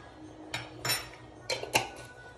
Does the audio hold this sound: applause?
no